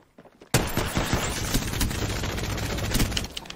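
Dense, continuous gunfire from an Apex Legends firefight erupts after a brief quiet moment and rattles on loud and close, with rapid overlapping shots and heavier bursts throughout.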